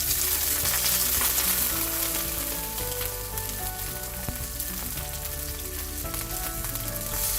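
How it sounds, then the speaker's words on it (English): Steady oil sizzling and crackling from potatoes frying in a pan, loud and continuous throughout with no talking. "I'm going to start frying my potatoes."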